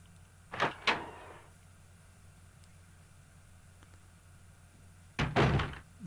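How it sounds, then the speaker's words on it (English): A door in the video game Resident Evil 2 opens with a double thunk early on, then after a quiet stretch closes with another heavy thud and rattle. "So let's go through this door."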